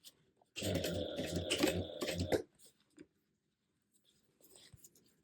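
A sewing machine runs a short burst of top stitching along a piece of a shoulder bag, a dense fast mechanical whir lasting about two seconds, followed by faint handling noises and soft movement.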